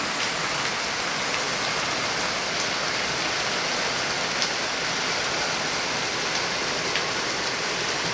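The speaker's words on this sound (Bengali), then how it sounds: "কি পরিমাণ বৃষ্টি হচ্ছে দেখতে পাচ্ছ, এক নাগাড়ে বন্ধ হওয়ার নাম নেয় না" Heavy continuous rain pouring down outdoors near parked paddy-harvesting machines and a JCB, a dense, steady hiss of falling water with no let-up and no voices.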